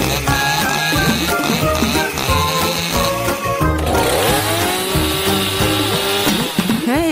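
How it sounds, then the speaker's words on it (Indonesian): A chainsaw runs loudly in an animated food-challenge cartoon, its engine buzzing continuously with rising and falling revs and sharp pitch sweeps throughout. "gergaji mesin"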